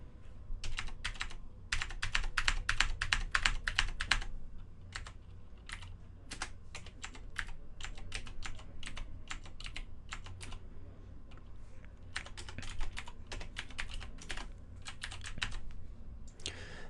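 Hex codes typed on a computer keyboard, heard as close, crisp bursts of rapid keystrokes with short pauses between runs and no talking.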